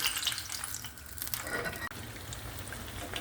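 Steady, close sizzling and crackling of zucchini slices frying in hot oil, a continuous bubbling hiss with no voices.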